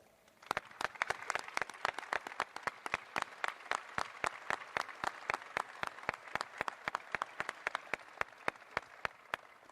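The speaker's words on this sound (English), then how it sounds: "let's give them a round of applause" Steady applause from a modest audience at a university press conference, many individual claps ringing out crisply for several seconds in a large, echoing room.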